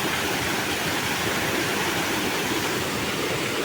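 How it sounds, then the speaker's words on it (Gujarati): Water rushes steadily in a small stream or waterfall near a temple on an off-road outing, a constant full-bodied hiss with no pauses or voices. "તો જો અમે ઝરણા પાઈ આવી ગયા આ ઝરણો તો જો"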